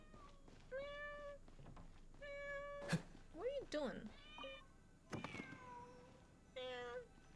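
A cat meows repeatedly in the video game Genshin Impact, several short separate mews spread across the stretch, with a few soft thumps and a voice speaking briefly in between.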